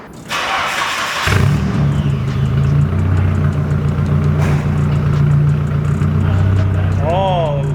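A Nissan S13 engine cranks and fires on its first start, then settles into a loud, steady idle with a droning hum; a voice speaks briefly near the end.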